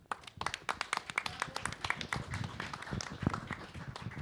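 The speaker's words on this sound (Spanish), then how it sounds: "Un aplauso." Audience applause at a book presentation, a dense burst of many hands clapping close and steady for about four seconds, with no talk over it.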